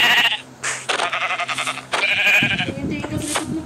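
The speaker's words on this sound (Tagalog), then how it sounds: "Sheep!" Minecraft sheep bleat several times in short wavering calls, loud and close, while a man exclaims excitedly in between.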